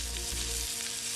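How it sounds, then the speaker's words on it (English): Barbecue meat sizzles steadily on a grill in a video game, a dense, continuous frying hiss that fills the short moment with no voices over it. "Oh, that's sizzling. Wow, look at all the meat."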